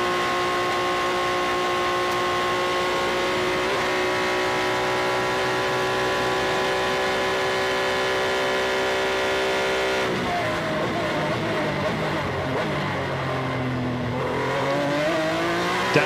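FIA F3 race car at the Macau Grand Prix, a loud sustained engine scream holding steady, then dropping through downshifts for the Lisboa corner before revving hard again on corner exit.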